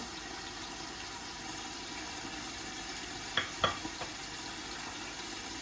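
Meat browning in a pan with half-moon sliced onions, a soft steady sizzle with a few sharp stirring clicks near the end, no voices.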